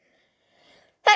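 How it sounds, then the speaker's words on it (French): A single sharp sneeze bursts out close and loud after a brief, faint inhaling breath. "Attention, je vais éternuer."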